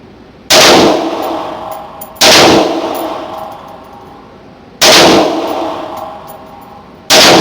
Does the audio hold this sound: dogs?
no